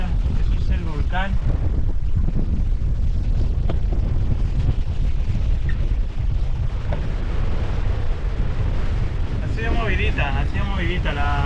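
Strong wind roars across the microphone aboard a sailboat at sea near San Vicente in 20 to 25 knot winds, a constant heavy rumble with buffeting gusts, and brief bursts of voices over it.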